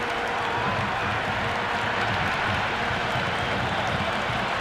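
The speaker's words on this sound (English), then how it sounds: "Will you listen to that crowd? They are loving this." A packed IPL cricket stadium crowd during Chennai Super Kings versus Royal Challengers Bangalore roars in a loud, sustained wash of cheering and clapping, dense and unbroken throughout.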